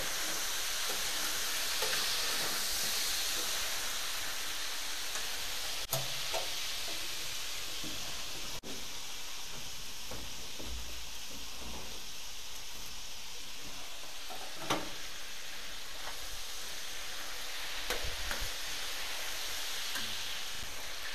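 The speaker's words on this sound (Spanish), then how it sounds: "ya es cuestión de ir friendo poco a poco" Steady, close sizzling of free-range chicken frying in a pan, with a few louder pops and scraping stirs, no talking.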